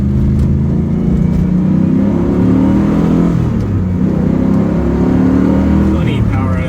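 A 1993 Callaway C8 SuperNatural Camaro with a 3.3 stroker engine and slightly flat-spotted tires drives along, giving a loud continuous in-cabin engine hum and road drone with rising and easing revs, with a voice talking over it.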